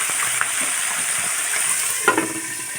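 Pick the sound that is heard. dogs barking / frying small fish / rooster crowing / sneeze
frying small fish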